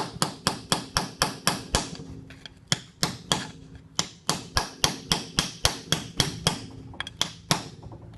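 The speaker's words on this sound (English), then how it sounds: "Just take a little hammer to give it a little tap." A small hammer taps over and over on a slimy gearbox drive to work a snap ring loose, giving a steady run of sharp metallic strikes close by, about two per second, with a short pause midway.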